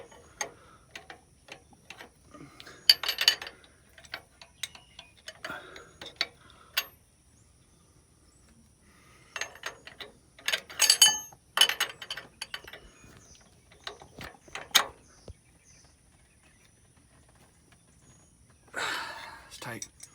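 Tightening a valve adjusting nut on a Cummins N14 diesel engine during an overhead valve set gives intermittent close metallic ratcheting clicks and tool taps in short bursts, with someone talking in between.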